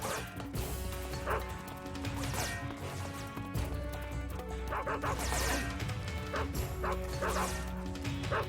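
A dog barks repeatedly in Metal Gear Solid 3 HD Edition, with sharp yips and bow-wows over steady game music and other in-game effects.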